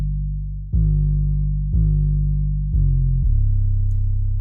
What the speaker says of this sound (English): I just want to add harmonics to the 808 without actually affecting the actual 808